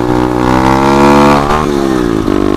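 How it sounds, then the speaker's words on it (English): A pit bike engine revs hard and loud at close range during a wheelie, a steady buzzing drone that rises and holds, then dips twice as the throttle eases off. "I can probably slow down now and hit a wheelie for you guys real quick."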